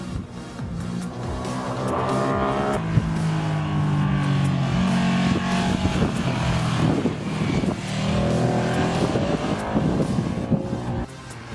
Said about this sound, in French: le bruit du bicylindre Ducati, ça c'est vachement bien